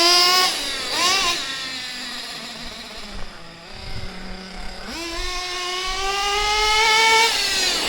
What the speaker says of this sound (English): car's been ticking over quite nicely here